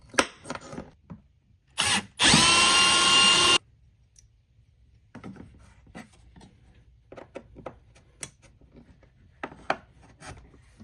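A power drill bores holes in a metal plate while fitting a compact battery-powered diesel heater, with one sustained high whirring burst after a short start, followed by scattered faint taps and handling clicks.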